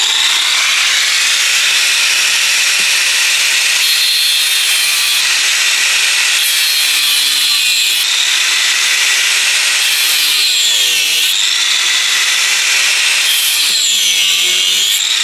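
An angle grinder with a special cutting blade slices through an anti-roll bar link bolt on a 2012 Nissan Navara, a loud, continuous, close-up high-pitched grinding scream whose pitch dips and wavers as the blade bites.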